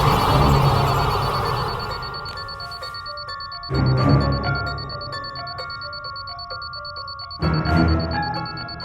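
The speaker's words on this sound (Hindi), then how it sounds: "अलार्म क्लॉक की आवाज फोन में?" An alarm clock tone plays from a mobile phone, a bright melodic ringtone of repeating chime notes, close and loud, broken by two sudden whooshing bursts.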